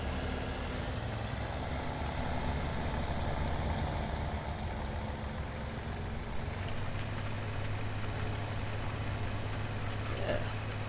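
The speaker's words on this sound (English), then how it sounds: "bit of cultivating with the utility tractor" Utility tractor in Farming Simulator 2017 pulling a cultivator, its engine droning steadily and struggling at low speed, a continuous low hum at moderate level with a voice talking faintly over it.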